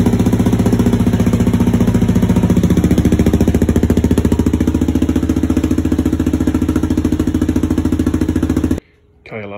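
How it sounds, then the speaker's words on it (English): A Kawasaki KLR 650 gen 3 motorcycle idles loud and close through a Delkevic 350mm oval exhaust with the baffle removed. Its deep, steady, throbbing pulse continues almost throughout, then cuts off sharply just before the end. "KLR 650, 350mm delkevic oval pipe with the baffle removed."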